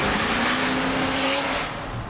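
A 1986 Chevrolet C10 with a 502 GM crate motor accelerates under a bridge, its engine giving a loud, close, continuous roar that echoes off the structure before easing slightly at the end.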